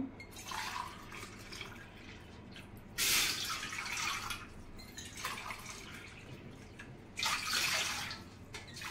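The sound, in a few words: pouring four glasses of water into a large pot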